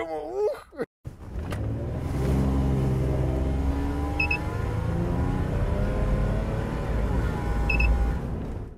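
A Korean-assembled SsangYong Actyon Sports pickup accelerates hard. Its engine note climbs steadily in pitch through the gears, a close, continuous revving rumble with a brief cut near the start.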